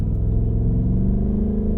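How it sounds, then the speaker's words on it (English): 2024 Ford Mustang GT with the 5-liter V8 and automatic, Performance Pack, its engine rumbling loud and close in a deep, even burble that is sustained for a short burst with no talking over it. "this engine, well, this engine gives us everything. I mean, hell, listen to it"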